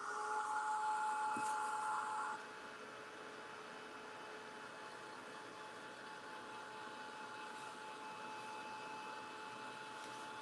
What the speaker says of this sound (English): Now I'm going to bring in my hairdryer again